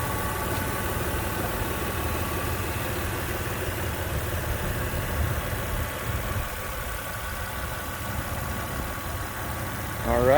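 A rebuilt Toyota 4Runner engine with new gaskets and a carbon fiber intake and snorkel idles steadily and close up, a continuous low rumble holding even for about ten seconds and swelling slightly at the end.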